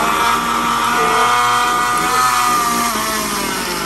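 Atomberg mixer grinder running with its jar empty gives a loud, close, continuous high-pitched whine and motor hum, steady throughout.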